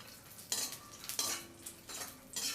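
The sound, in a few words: cashew nuts roasting and stirred in ghee in kadai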